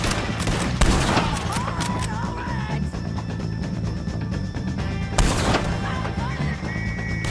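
Gunfire in the video game Red Dead Redemption 2: a rapid fusillade of overlapping shots erupts, eases, then bursts again near the end, loud and close, with game voices and music underneath.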